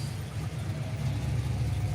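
An Australian muscle car idles nearby with a low, steady rumble, a continuous throbbing burble that holds an even level throughout and has no talking over it.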